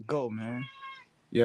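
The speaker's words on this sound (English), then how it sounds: "that's my cat asking for food" A pet cat meows for food, one drawn-out, wavering meow heard clearly up close, with a man's brief speech before and after it.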